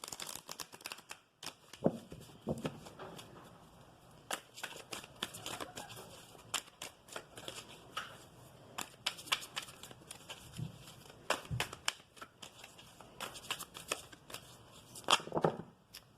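A stack of oracle cards is shuffled by hand in soft, irregular riffles and flicks, close and fairly quiet, with a few louder snaps near the end.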